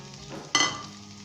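Green chilies hit a hot pan of onions and cabbage, setting off a sudden loud sizzle midway that then settles into a softer steady frying hiss.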